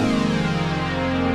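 A Casio Privia Pro PX-5S stage piano plays a six-layer synth patch built from stacked sawtooth waveforms, a dense, buzzing sustained chord held steadily throughout.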